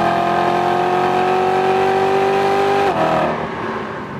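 A BMW M3 engine in M mode holds a loud, steady high rev with a strong tonal drone, then drops sharply as the throttle lifts and the revs fall away.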